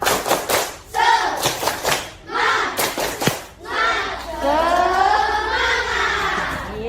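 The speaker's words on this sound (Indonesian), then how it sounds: "Ayo semuanya, tepuk semangat." Classroom of elementary school children doing a rhythmic 'tepuk semangat' spirit clap, bursts of sharp group claps in patterns broken by shouted chanting voices, loud and close, ending in a long sung or chanted phrase.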